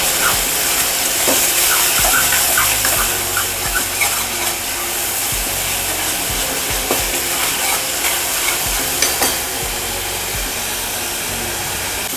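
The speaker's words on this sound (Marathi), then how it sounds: "आता हा थोडा पिंक झालेला आहे कांदा अजून आपल्याला थोडा हा फ्राय करावा लागणार आहे" Chopped onion frying in a pan, turning pink on its way to reddish, giving off a steady loud hiss with scattered crackles and occasional stirring knocks, close and continuous with no speech.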